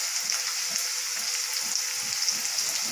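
Potatoes frying in oil in a pan, an even, close sizzle with faint soft stirring pulses underneath, no voices.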